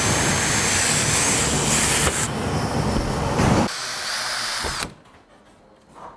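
A power drill bores holes into a mock car window panel for a NASCAR-powered 1955 Chevy, whining loud and steady for several seconds before stopping abruptly.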